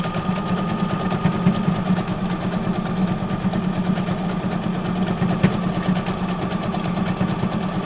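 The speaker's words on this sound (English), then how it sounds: "SQ9185 Whippersnapper sewing machine." An SQ9185 sewing machine runs steadily, a fast mechanical whirring hum with rapid stitching patter, moderately quiet and continuous with no voices.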